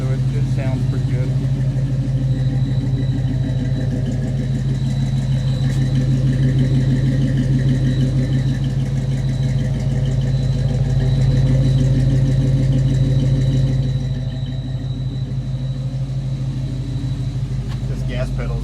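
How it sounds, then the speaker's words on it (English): A flathead engine in a 1951 Ford F1 truck idles and rumbles steadily with a deep, throaty tone through a 2.5-inch Flowmaster exhaust, close by and continuous throughout, with no talking. "It's got Flowmaster exhaust on it, so it sounds pretty good."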